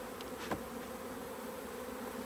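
Honey bees buzzing steadily inside an open, healthy beehive, a soft continuous drone with a brief louder pass near the start, with no talking.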